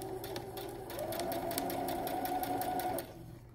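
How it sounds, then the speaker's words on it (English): A sewing machine stitches an instrument bell cover for woodwinds and brass, running at a steady close whir for about three seconds before slowing and stopping. "I'm gonna sew this guy all the way up to it."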